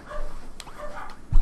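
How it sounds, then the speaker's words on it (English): A dog named Vanilla gives a few short, yelping barks and whimpers at a moderate distance, spaced out over a brief moment, with a thump near the end. "on the plus side, it's good that Vanilla's barking again"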